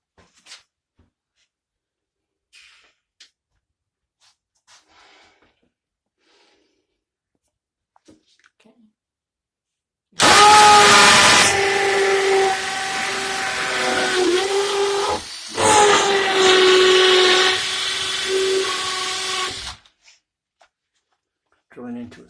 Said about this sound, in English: Drilling into a stud.